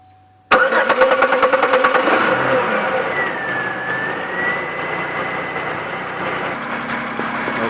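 A car engine cranks and catches after a tune-up, starting abruptly and settling into a steady, fairly loud run with a rising whine partway through, no voices over it.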